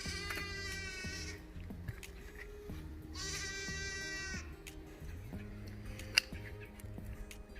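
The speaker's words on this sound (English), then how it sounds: "just in case you can hear that yelling, that's not a kid, that is a goat" A young goat bleats loudly in two long, wavering calls over a steady low hum and clatter in a garden setting, with a sharp click near the end.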